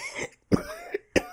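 A man coughs in short, harsh bursts, three or four dry hacks with brief gaps, close and alone without speech.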